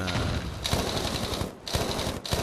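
Rapid automatic gunfire from the mobile shooter game Battlefield Mobile, dense rattling bursts fired in quick succession, loud and close, with brief gaps between volleys and no talking.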